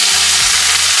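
Food sizzles loudly and steadily in a small frying pan, a dense close-up crackle with no voices over it.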